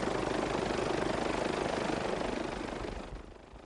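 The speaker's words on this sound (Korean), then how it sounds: "헬기를 타고 돌아봤습니다" Helicopter rotor and engine drone from an aircraft flying over the site of a collapsed bridge (Seongsu Bridge) with a crushed bus, a steady loud wash that fades slightly at the end, with no talk.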